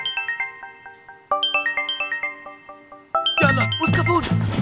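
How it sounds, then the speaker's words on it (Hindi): A bright electronic phone ringtone plays a repeating tinkling melody in bursts, then a louder stretch where voices start talking over it. "फोन बज रहा है।"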